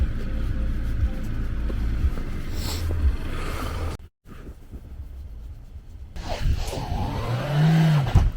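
A car's engine revs as it struggles on traction pads under the tires, stuck in snow during a snowstorm; a low rumbling drone rises and falls with a sharp surge near the end, broken by a brief gap.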